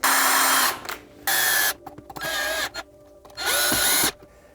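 A power drill drives screws while a basement railing is installed, in several loud close bursts of whirring separated by short pauses and quieter clicks.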